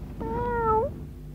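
A single cat meows once, a clear close call lasting under a second over a soft background hum, with no voices.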